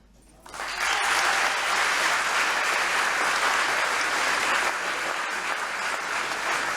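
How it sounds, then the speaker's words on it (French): Audience at a university thesis-presentation final breaks into sustained, even applause after a quiet start, holding a dense, loud wash of clapping throughout. "Est-ce que vous savez applaudir?"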